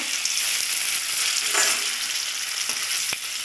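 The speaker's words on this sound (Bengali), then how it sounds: "ওই জন্য আমি পনিরটাও ভেজে নেব" Paneer frying in oil seasoned with salt and turmeric, a dense, steady close sizzle with faint stirring scrapes and a sharp tap near the end, no talking.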